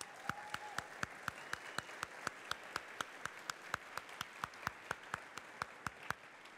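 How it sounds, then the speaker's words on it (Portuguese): A church congregation applauds volunteers with a steady, even run of loud individual claps, regular and close, and no talking over it. "Você pode aplaudir os nossos voluntários?"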